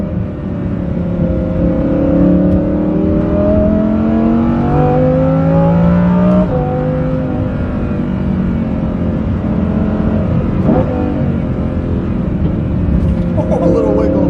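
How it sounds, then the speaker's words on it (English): Lamborghini Huracan Performante with a Kline aftermarket exhaust cruising at highway speed in race mode, a loud sustained engine drone with slowly shifting tones as revs change, under road and wind noise. "Here's an example of how it sounds at highway speeds in race mode."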